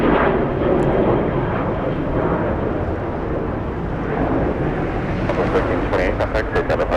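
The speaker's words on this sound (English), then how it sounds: "Early rotation there by the Southwest." Southwest airliner taking off from Los Angeles International Airport for San Francisco into a headwind, a loud rumbling engine roar that stays strong throughout, with voices talking over it and some clicking near the end.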